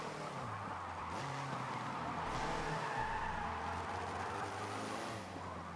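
A yellow Mercedes SLS AMG in the Forza Motorsport 7 racing game drives with a steady engine drone, while drawn-out tire skidding and squealing sound at a moderate, slightly muffled level.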